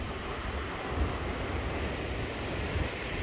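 Atlantic Ocean surf on the Portuguese coast at seven in the morning, along the Camino de Santiago: a steady, low rushing wash of waves mixed with wind buffeting the microphone, with no distinct breaks and no voices.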